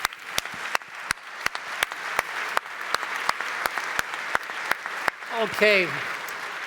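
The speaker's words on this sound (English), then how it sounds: "please join me in another final round of applause for our panelists" Conference audience applauding panelists at an aerospace power panel: a steady, evenly spaced run of claps over a low hum of crowd noise, ending with a brief spoken word.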